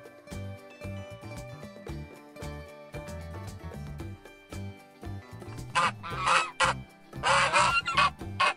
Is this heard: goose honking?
yes